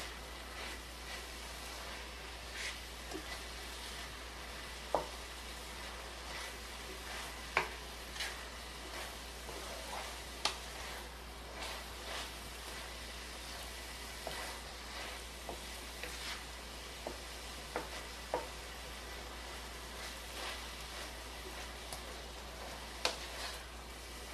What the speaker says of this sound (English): So we're just going to stir this around until this absorbs some of this color.